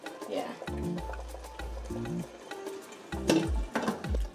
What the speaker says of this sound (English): make sure you gradually stir this stew all the time